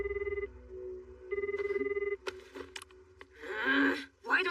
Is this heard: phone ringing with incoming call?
yes